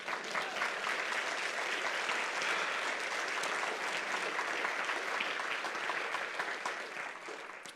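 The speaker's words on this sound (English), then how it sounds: "You can clap for that." A crowd at a Christian youth gathering breaks into sustained applause, dense steady clapping from many hands that holds strong for several seconds before easing slightly at the end.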